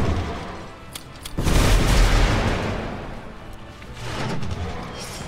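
A grenade goes off in the video game Magicka, a heavy booming blast that swells and rumbles for a couple of seconds, followed by a second rolling burst, with no talking over it.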